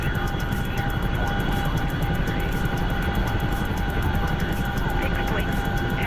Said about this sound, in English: I'm pretty decent at bringing a helicopter in.